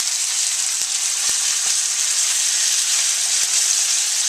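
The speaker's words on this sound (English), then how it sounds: "The next ingredient that we'll put in will be our carrots" Sliced carrots hit a hot pan of instant ramen stir fry with pork and shrimp, giving a loud, continuous bright sizzle punctuated by a few sharp ticks and pops from the oil, with no voices.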